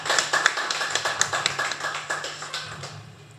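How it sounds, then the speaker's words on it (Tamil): An audience at an astrology talk claps for a few seconds, a quick run of sharp hand claps from a small group, fairly close and fading slightly at the end. "அதுக்காக சதீஷ் ஐயாவுக்கு ஒரு பலத்தா ஒரு கைத்தட்டில் கொடுங்க."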